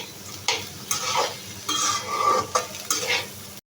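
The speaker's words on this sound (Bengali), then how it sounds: "একটু বেশি সময় ধরে ভাজবো, তাতে করে খিচুড়িটা খেতে খুবই ভালো লাগবে।" Rice and lentils frying in a pot for khichuri, stirred with repeated scraping strokes of a spoon over a light sizzle, close and rhythmic.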